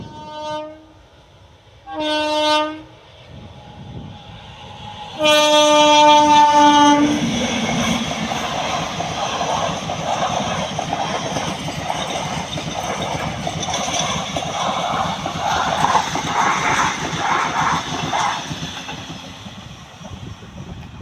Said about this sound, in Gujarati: તો ટ્રેન આવી રહી છે આપણે ફાટક બંધ છે ગાડી લઈને ઊભા છે